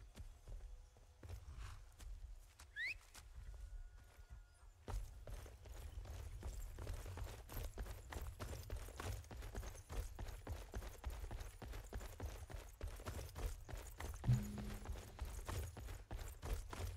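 Horse hooves in modded Skyrim begin after a quiet stretch and run in a quick, even clip-clop for the rest of the clip, soft and close, with a few faint game sounds around them.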